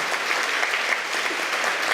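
Audience applause for a college principal at a women's degree college event, a dense, sustained clapping from a sizable crowd, steady and fairly close, with no voices over it.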